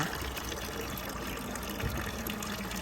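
Water from a public outdoor drinking basin, turned on for summer, pours in a steady, even rush that stays constant throughout with no voices.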